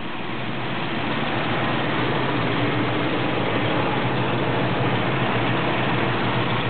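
A 1976 Oldsmobile Ninety Eight Regency engine idles after a cold start, a steady, even low rumble that holds unchanged and close throughout, with no voices.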